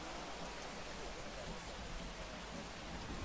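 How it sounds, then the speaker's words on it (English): Steady video game rain falls as a soft, continuous wash of dense patter with no pauses, fairly faint and even throughout. "Oh, it's raining."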